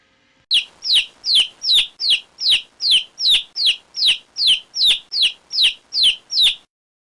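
A chick cheeps in a steady, evenly spaced run of about fifteen high, sharp calls, loud and close, with no other sound around it.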